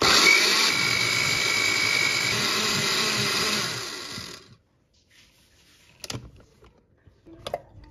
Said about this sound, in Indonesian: Lalu ini akan aku blender sampai halus.